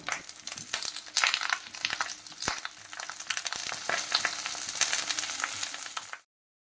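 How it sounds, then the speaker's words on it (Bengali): Gondhoraj chicken paturi parcels frying in hot oil in a pan, a steady close crackling sizzle with sharp spitting pops throughout, then cutting off abruptly near the end. "একটু সাবধানে করবেন, এই পাতুরিগুলো থেকে কিন্তু তেল ছিটকাতে পারে, তাই খুব সাবধানে এই পাতুরিগুলোকে এর মধ্যে আমি দিয়ে দিচ্ছি"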